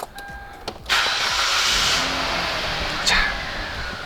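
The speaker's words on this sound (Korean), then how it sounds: "6기통 차량답게 엔진 소리 되게 굉장히 경쾌해요" A Hyundai Grandeur Q270 V6 engine cranks and catches with a sharp burst, then settles into a steady, smooth idle close by, with a brief rev near the end.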